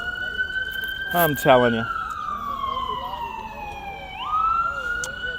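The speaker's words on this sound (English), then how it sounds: "it wouldn't be New York without a loud siren, huh?" An emergency vehicle siren wails on a New York street, a steady tone sliding down then jumping back up, with a brief horn-like burst early on and someone speaking briefly over it.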